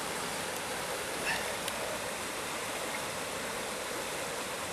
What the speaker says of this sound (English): Maybe you can see the height of the river more from here.